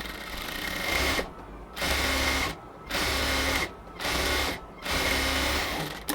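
A sewing machine runs a double stitch along a cotton kameez in repeated bursts of steady whirring, close and loud, each burst broken by short pauses.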